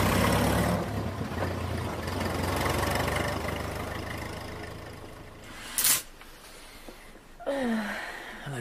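A car engine turns over and settles into a low, steady idle, fairly muffled and close, followed by a door thud and a few brief mechanical sounds.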